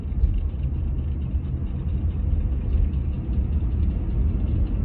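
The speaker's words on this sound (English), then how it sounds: "oh girl, that's somebody else's car." A car outside gives off a steady, loud low rumble and engine drone that holds for several seconds with little change, and no one speaks.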